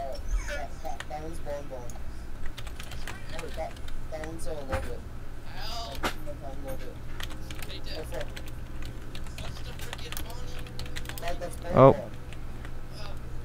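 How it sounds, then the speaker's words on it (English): Soft rapid clicking of a computer keyboard runs steadily under ongoing conversation while players take a Roblox Five Nights at Freddy's quiz, with keystrokes faint and close. "You just typing them all in."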